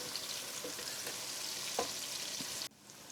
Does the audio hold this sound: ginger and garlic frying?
yes